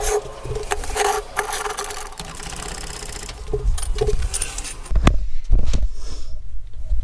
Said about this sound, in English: Let's pull this tire off and see what we got going.